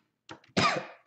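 A single person coughs a few times in quick succession, close and abrupt, with short silences between the bursts.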